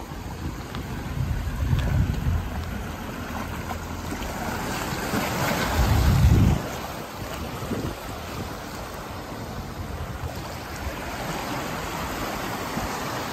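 Sea water surging into holes in rough coastal rock on a Bahamas shore, a continuous wash of water and wind with louder gurgling swells near the start and middle before settling back into a steady rush.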